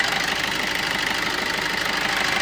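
A 2018 Maruti Dzire VDI diesel automatic idling, its engine giving a steady, even rhythmic clatter heard up close and alone.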